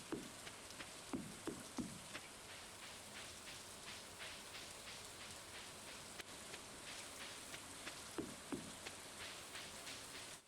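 Steady rain falls in the video game Stardew Valley, a constant even hiss of drops with a few brief soft tones from the game breaking through now and then.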